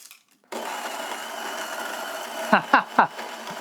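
A coffee grinder runs on a batch of lychee-forward El Paraiso coffee beans, a steady close-up whirring grind lasting several seconds, with a few short voiced sounds breaking in near the end.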